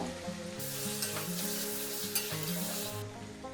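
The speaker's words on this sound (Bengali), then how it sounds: "এবার ভেজে রাখা আলুটা দিয়ে একটু কষে নেব" Fried potatoes with a spoonful of sugar being sautéed in a pan for a banana flower dish, a bright sizzle with a few spoon scrapes, quiet background music running underneath.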